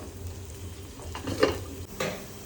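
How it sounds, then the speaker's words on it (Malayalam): Prawn fry in its final stage crackling in a pan, a low steady sizzle with a couple of brief stirring scrapes, close and moderately loud, no voices. "ചെമ്മീൻ ഫ്രൈ ഏകദേശം അവസാന ഘട്ടത്തിലെത്തി"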